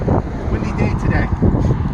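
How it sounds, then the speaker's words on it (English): Strong gusts buffet the microphone outdoors on a windy day at a street intersection, giving a steady low rumble that runs loud through the whole short stretch. "windy day today."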